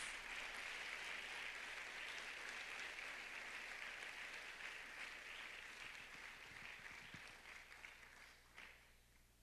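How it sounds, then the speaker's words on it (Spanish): Congregation clapping for Jesus during a church sermon, a sustained wash of many hands that is faint and distant and tapers slightly toward the end. "demos una ofrenda de palmas al Señor Jesús"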